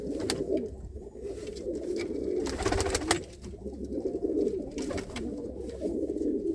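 Racing pigeons coo steadily in a loft, a low continuous murmur of overlapping calls from several birds close by, with a few louder bursts of movement midway.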